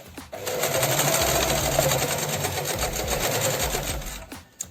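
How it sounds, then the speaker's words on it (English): A sewing machine back stitches a zipper pouch, running in one steady, close, rapid whirring burst of about four seconds before stopping with a faint click. "now I'm going to begin sewing. All right, so I'm going to do my back stitch"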